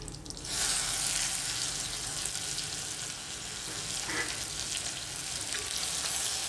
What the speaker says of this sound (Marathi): कांदा चांगला गुलाबी रंगावर परतू दे